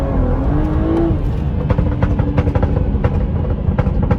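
A BMW B58 engine with a VRSF catless downpipe pulls hard on the street, its loud exhaust rising in pitch, then roaring steadily with crackling pops through the rest of the run.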